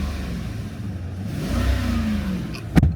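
V8 engine of a 1997 Toyota Celsior, warmed up: steady low idle that rises into a smooth rev around the middle and then settles, with a sharp click near the end, close by and no talking.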